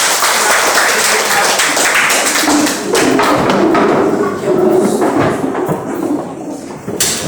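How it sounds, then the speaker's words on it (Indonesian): A classroom group claps together, loud close hand claps with uneven thumps and taps mixed in, continuing for several seconds before thinning out. "Tepuk tangan untuk kita semua."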